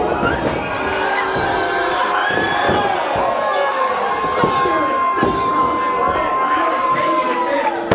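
A wrestling show crowd booing and cheering: a continuous roar of many voices with drawn-out jeers and shouts, broken by occasional sharp thuds, loud and steady from start to finish.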